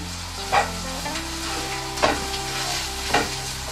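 Aubergine pieces stir-fried over high heat for baingan, a continuous loud sizzle with three sharp scrapes of the spoon against the pan, no voices.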